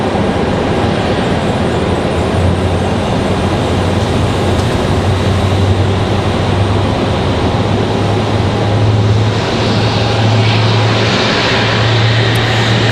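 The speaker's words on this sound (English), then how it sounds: "Got a Delta headed out there, and a 737 as well" Jet airliners at an airport, including a Delta plane and a Boeing 737, produce a steady, loud broadband engine roar with a low rumble that persists throughout, without speech.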